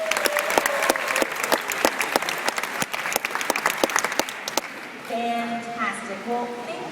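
A round of applause from the amphitheater crowd at a beluga show at Shedd Aquarium, loud dense clapping for about five seconds before it thins out and a voice comes in over the tail.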